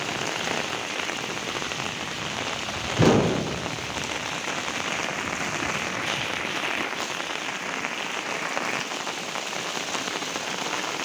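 Heavy rain falling on a village street, a dense constant patter and hiss on hard surfaces, with one brief louder splash or knock early on and no voices.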